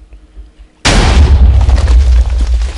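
TNT explodes in Minecraft, a sudden loud boom cutting in after a near-silent start and followed by a sustained crackling, rumbling blast that fills the rest of the moment.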